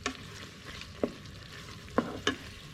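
Bay leaves and masala are stirred in a pan for chicken daal, with a quiet background sizzle broken by four distinct spoon scrapes and clinks spaced irregularly, close and fairly soft.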